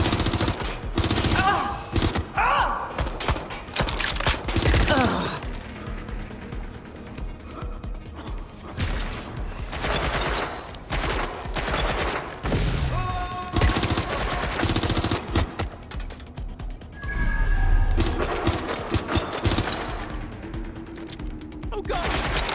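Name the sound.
gunfire in the video game Watch Dogs Legion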